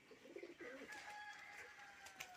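A male pigeon coos as it lands in a coop, soft low throaty calls close by, with a few faint rustles and light background noise.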